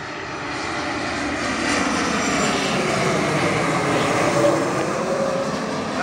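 Airplane passing low over Cambu beach on approach to land at Vitória airport, a loud, steady engine roar that swells gradually and holds close, with no talk.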